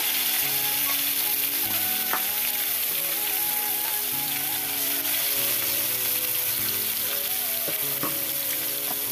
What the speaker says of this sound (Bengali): চলো মাছটাকে ভেজে ফেলি।